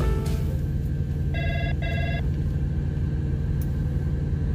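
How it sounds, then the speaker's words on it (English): Outgoing call ringback on a telephone: two short electronic ringing bursts, fairly clear, over a steady low rumble of a vehicle cab, with no talking. "Let's witness Jimmy make a phone call to his customer."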